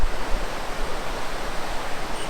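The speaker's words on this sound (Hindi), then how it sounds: "बहुत फोर्स से पानी बह रहा है" Water rushes with great force near Manali, Himachal Pradesh, a loud, dense, unbroken roar close by with no voices.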